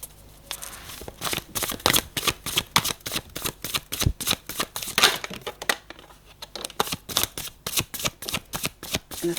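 Tarot cards are shuffled by hand for a reading, a long run of quick, close, papery riffling bursts in a steady rhythm with no talk over them.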